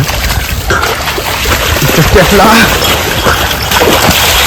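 A buffalo wades into water, giving loud close splashing and sloshing under continuous wind-like noise, with voices speaking through the splashes.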